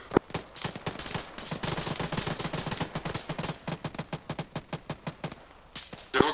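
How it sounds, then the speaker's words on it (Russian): Automatic gunfire in the military game ARMA 3 pops in a long, evenly spaced string of shots at a steady rhythm, moderately loud, with a single louder crack at the start and another at the finish. "Впереди стрельба."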